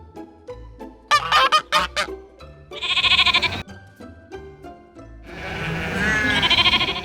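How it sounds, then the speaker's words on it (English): A farm duck quacks in a quick run of loud, sharp bursts, then makes two longer, noisier calls; no one speaks. "Duck."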